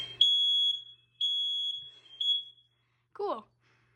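A home smoke detector under test sounds repeated loud high piercing beeps, three tones in a row, close by, followed by a brief voice.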